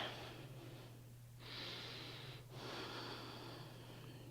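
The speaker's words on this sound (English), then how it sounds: "Breathe." Slow, soft breathing during a yoga pose, faint airy exhales and inhales with a quiet pause between breaths, alone over a low steady hum.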